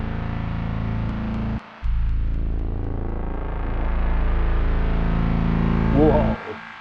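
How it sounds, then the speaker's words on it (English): Arturia Pigments 7 software synth playing a sustained, buzzing tone run through its filter with added distortion, steady and loud with a brief dropout near the start, the timbre shifting and growing grittier before the sound cuts off near the end. "So the filter adds distortion as well."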